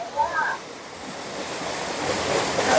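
Ko Luang waterfall in Mae Ping National Park flows with a soft, steady rush of water, moderately distant and fairly even, with a brief voice-like sound near the start and slight wind buffeting on the microphone.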